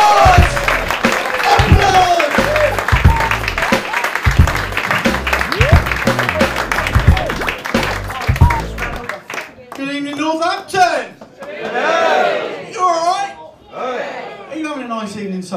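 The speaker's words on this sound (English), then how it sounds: "Applause! Applause!" A Northampton comedy club audience applauds and cheers, a loud crowd clapping that cuts off abruptly, followed by someone talking.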